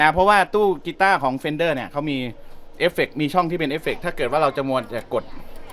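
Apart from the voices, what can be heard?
No everyday noises stand out.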